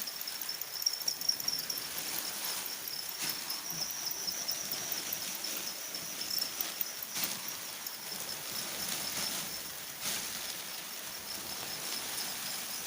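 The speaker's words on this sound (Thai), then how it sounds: "ทีนี้วิธีจับจิ้งหรีดเลยนะคะเน" Farmed crickets chirp in a thin, high, continuous trill at a Thai cricket farm, faint under soft rustling and scattered taps, with no voices.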